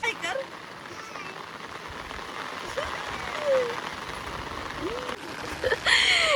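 Heavy rain pours onto a waterlogged green rice farm field, a steady dense hiss lasting throughout, with a few brief voices or calls rising over it near the end.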